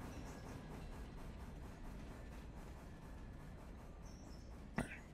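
Train cars rolling slowly up the track in the railroad simulation game Railroader, a quiet steady rumble with faint rhythmic clatter, a brief sharp click near the end.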